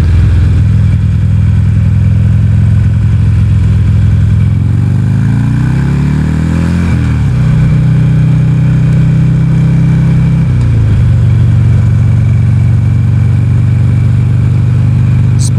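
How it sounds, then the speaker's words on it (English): A Ulysses 1200cc V-twin motorcycle engine on the road, a loud, continuous low-revving rumble close by that shifts pitch as the bike changes speed, with no talk over it. "Ulysses 1200cc V-twin, and it's a bit of a beast, low revving"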